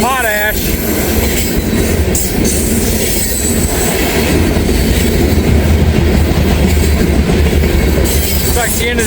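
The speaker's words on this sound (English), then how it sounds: "Looks like the end of the train's coming up" Freight train cars loaded with potash roll past at close range in Walton, Kentucky, with a loud continuous rumble, wheel clatter and squeal, a brief horn-like tone at the start and a faint voice underneath.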